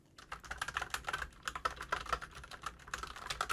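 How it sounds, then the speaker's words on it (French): Typing on a GG Ironclad keyboard fitted with Gateron Red linear switches, a fast, steady run of close, crisp keystrokes picked up by a nearby microphone, with no talking. "Je vous fais de suite écouter les switches Gateron Red sur ce clavier."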